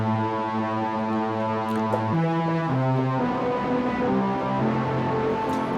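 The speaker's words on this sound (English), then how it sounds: "if I put the distortion in here," Distorted synth in Bitwig Studio, a thick buzzing tone holding and shifting between a few sustained chords, loud and gritty with blurred harmonics, heard alone without talk.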